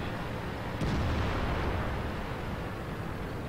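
A tank cannon fires in World of Tanks, a single heavy boom over a constant low engine rumble and battle noise.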